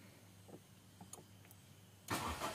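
Honda Brio started with the keyless push-start button: faint quiet cabin clicks, then the engine cranks and catches abruptly near the end, close and much louder than before.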